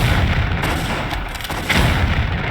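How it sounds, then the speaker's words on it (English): Grenade blasts in Tomb Raider III Remastered, a dense run of heavy booming explosions with rumbling low end that fills the whole stretch at steady loudness, with no voices. "I've got a grenade for each of you"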